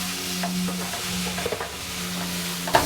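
Chopped tomatoes stirred and sautéed in a pan for Kerala meatball curry, a soft steady sizzle under light scraping and a few spoon taps, with a sharper clink at the end.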